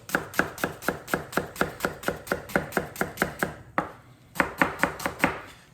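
A knife chops onion on a cutting board in fast, even strokes, about four per second, crisp and close, with a brief pause before the rapid chopping resumes.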